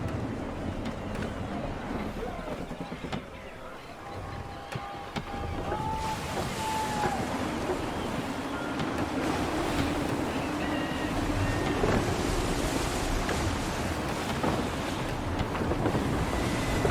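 Gusty wind roars over a sailing ship at sea in Assassin's Creed 3 Remastered, with waves crashing and surging in a dense, continuous wash that swells louder toward the end.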